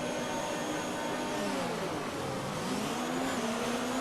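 Race car wheels spinning as the field launches off the line at Hungary in the F1 2019 video game: a loud, steady engine roar with a shifting pitch. No voices.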